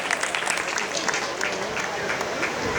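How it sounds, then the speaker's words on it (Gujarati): An audience claps steadily and fairly loudly for the whole stretch, a dense wash of hand claps with voices mixed in. "તાળીઓ તો વજાયો આટલી."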